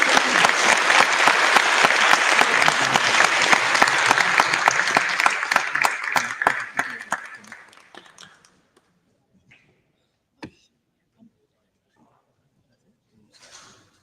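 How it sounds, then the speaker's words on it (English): Audience applause for panel members at a university sustainable buildings showcase night, loud and sustained for about seven seconds before tapering off into quiet with a few faint scattered claps. "can we please have a huge round of applause for all of our panel members"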